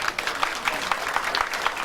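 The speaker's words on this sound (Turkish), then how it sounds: "Ona da bir alkış gönderelim efendim" Brief burst of audience applause at a Turkish event, steady clapping at moderate distance with no talk over it.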